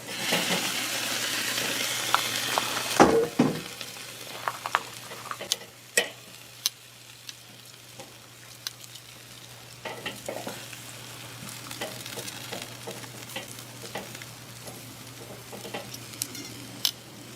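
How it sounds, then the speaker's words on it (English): Black garlic chicken wings sizzle and crackle directly over hot coals, a steady fry hiss with scattered pops and ticks, fairly close and heard alone after a brief clatter early on. "now they're cooking directly over the coals. Render down that fat, get them nice and crispy"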